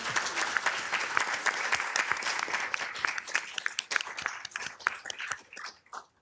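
A city council meeting audience gives a round of applause, crisp individual claps at first merging into a dense burst that thins out and stops after about six seconds.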